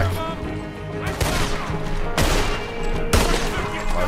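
Several heavy rifle gunshots in the video game Red Dead Redemption 2, three loud sharp blasts spaced about a second apart over a dense, noisy background of game sound.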